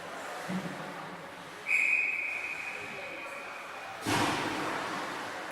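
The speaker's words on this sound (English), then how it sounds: "and a whistle." A referee's whistle blows during a junior women's hockey game in an arena, one sharp sustained blast of about two seconds. A steady crowd and rink murmur runs underneath, with a louder burst of arena noise following.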